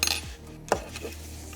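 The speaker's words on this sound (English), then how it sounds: "It is my watch. It keeps banging on the desk." A wristwatch knocks against a desk during crochet work, giving a few light, sharp clacks close by, with one distinct knock standing out amid quiet room tone.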